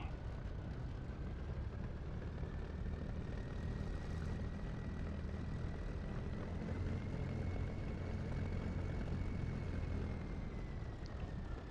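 A Bf109's propeller engine drones steadily while the fighter taxis across grass in the DCS flight simulator, a constant close rumble with a slowly wavering whine and no talk.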